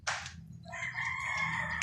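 Roosters crowing at a venue full of chickens, a sharp short call followed by a sustained, loud, close crow lasting most of the stretch.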